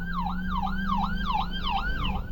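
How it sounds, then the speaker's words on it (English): An ambulance siren wails, sweeping up and down in steady repeated cycles, loud and close, over a low engine rumble. "Okay, it's an ambulance."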